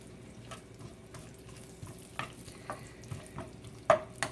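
Onions browning in a pot for a cabbage dish give off a quiet, steady sizzle, broken by a few soft stirring scrapes and one sharper clink near the end.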